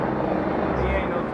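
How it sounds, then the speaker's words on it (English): Helicopters circle overhead during a search to identify figures on a rocky outcrop, a steady low rotor drone running continuously with voices talking over it. "Helicopters circle, trying to help identify the figures."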